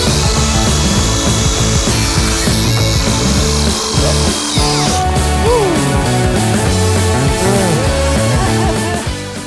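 A saw chopping aluminium pieces for solar panel brackets, a loud, close, harsh grinding and ringing cut that runs continuously with shifting pitch, with no talk.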